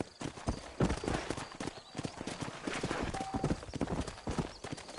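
Horse hooves clip-clop in a Western setting in the Red Dead Redemption video game, a steady rapid trotting rhythm that is close and clear, with faint game voices and ambience underneath.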